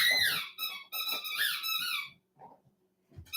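A dog's squeaky ball toy gives a run of loud, high, whining squeaks in several quick bursts, close up, then a brief quiet with faint thumps.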